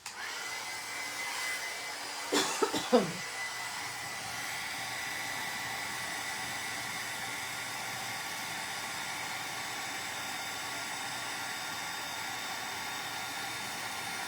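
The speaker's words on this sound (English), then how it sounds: "Okay, let's heat emboss that." A heat gun blows a steady, even whoosh while melting embossing powder for heat embossing, running continuously after a brief clatter near the start, with no talk over it.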